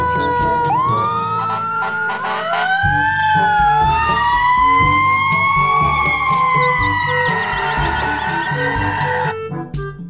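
A toy fire truck siren wails loudly and continuously, its pitch rising and falling in electronic sweeps, close by.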